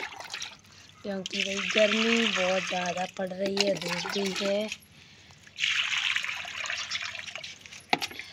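Water poured from a container into outdoor bird water bowls in hot summer sun, splashing and trickling in two bursts while someone talks over the first.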